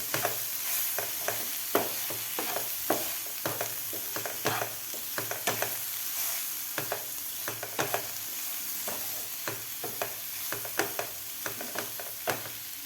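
Vegetables are stirred in a pan with dry spices and salt for masala toast filling, giving a steady background sizzle broken by repeated sharp scrapes and taps of a spatula against the pan.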